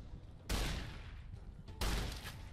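Two loud, sharp gunshots from the video game Fallout New Vegas, a little over a second apart, each with a booming decay over a steady low background hum.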